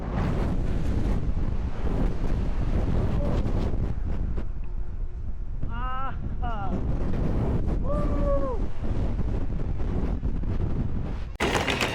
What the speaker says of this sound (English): Just got a fun ride on Harley Quinn, just a big pendulum ride here at Six Flags America.